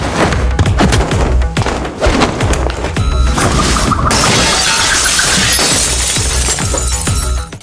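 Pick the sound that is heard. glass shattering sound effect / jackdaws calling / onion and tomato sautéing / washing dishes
glass shattering sound effect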